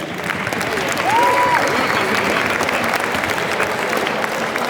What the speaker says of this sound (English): A big round of applause for the plus ones.